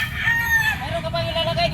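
A gamecock crows nearby, a drawn-out call repeated over a steady background of other fowl and outdoor market noise, with talk around it.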